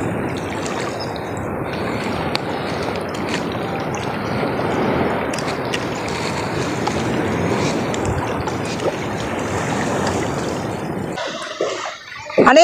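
Big sea waves surge and crash against a small fishing boat at sea, a loud continuous roar of rushing water and wind that fades out abruptly near the end.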